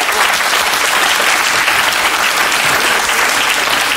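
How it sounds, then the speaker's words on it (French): A dense burst of television studio audience applause, loud and steady throughout, with many hands clapping at once and no voices standing out. "si vous applaudissez trop"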